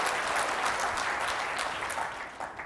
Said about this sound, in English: or you can just clap your hands.